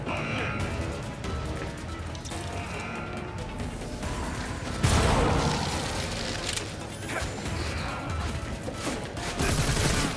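Gunfire in the video game Gotham Knights: dense bursts of shots and crashes in a busy fight, under a speaking voice.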